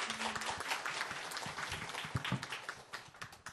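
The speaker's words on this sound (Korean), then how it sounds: "함께 해주신 신현상 교수님께 큰 박수 부탁드리겠습니다" Audience applause for a professor at a corporate citizenship book concert, a steady wash of many hands clapping throughout with no voices over it.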